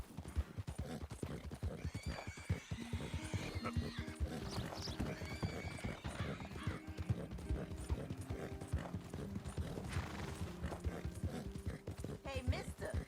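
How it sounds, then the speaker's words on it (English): In the video game Red Dead Redemption 2, a horse whinnies and hooves clip-clop steadily at a gallop, with someone talking over the sounds throughout. "that's one nice looking horse you got there"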